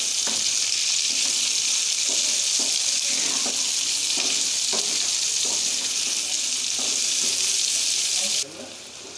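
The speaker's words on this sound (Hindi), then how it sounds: "अब इसमें डालेंगे हम प्याज जो हमने चॉप किया था।" Chopped onions for an Afghani omelette fry in a pan, making a loud, steady hiss with soft stirring knocks underneath, until the sizzle drops off abruptly near the end.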